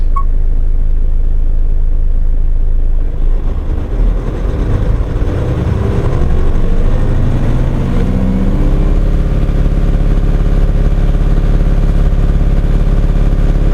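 A Japanese commercial truck engine runs during a turbocharger diagnostic test, a loud, steady mechanical drone that rises in pitch and intensity after a few seconds, then holds a constant, unbroken rumble with a turbo whine.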